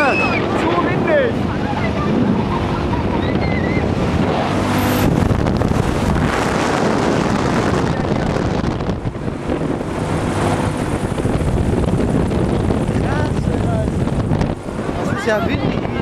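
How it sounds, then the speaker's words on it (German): Strong wind buffets the microphone in loud, continuous roaring gusts on the Gladiator ride in Aachen, with engine and water noise underneath and excited voices talking throughout. "Zu windig!"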